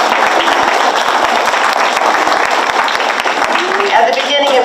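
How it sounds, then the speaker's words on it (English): Sustained applause and clapping from an audience for a child at a storytelling festival, steady and dense throughout, with a voice briefly heard near the end. "Give him a round of applause."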